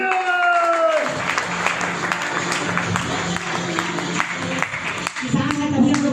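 An audience at a farmers' meeting breaks into loud, sustained clapping after a speaker's call, the applause filling the room continuously with a voice briefly audible near the start.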